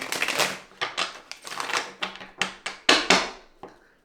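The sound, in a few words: shuffling a deck of tarot cards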